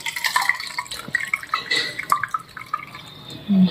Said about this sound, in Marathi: थोडंसं पाणी राहू देते ह्याच्यामध्येच टाकून देते